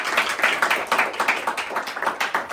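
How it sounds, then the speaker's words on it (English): An audience welcomes a guest speaker with a short burst of applause, many hands clapping together in a dense, lively patter that lasts a couple of seconds. "welcome with a round of applause our guest speaker for today"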